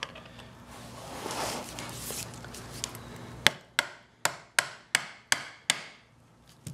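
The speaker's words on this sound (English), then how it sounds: "I can just take a mallet and a screwdriver, and I can start working away at this first slit" A mallet drives a screwdriver to cut a slit in a leaf spring's metal sleeve: eight sharp, ringing metallic strikes land at an even pace, preceded by rustling handling noise.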